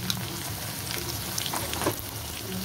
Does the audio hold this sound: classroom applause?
no